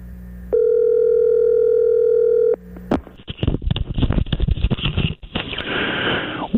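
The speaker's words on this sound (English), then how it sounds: "so we thought we would call Ed Carter's Sports Hotline" A steady telephone dial tone sounds for about two seconds as a call goes out to a pre-recorded sports hotline, then cuts off, followed by rustling, breathy line noise and handling sounds.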